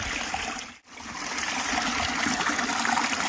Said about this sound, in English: Check out this stream.